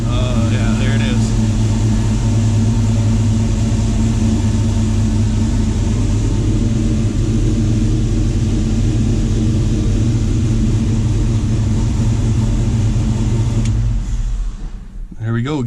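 Truck engine idling loud and close, a steady low rumble with strong harmonic hum running unbroken for most of the stretch before cutting out near the end.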